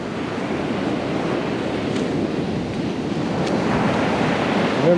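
Ocean surf washes and crashes continuously onto Baker Beach in San Francisco, a loud, steady roar of breaking waves close by with no voices.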